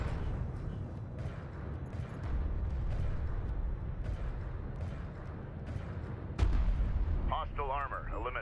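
Gunfire and explosions hit a sentry post in the Homeworld: Deserts of Kharak video game, a dense run of rapid booming shots and blasts with one heavy impact near the end, alongside game radio chatter.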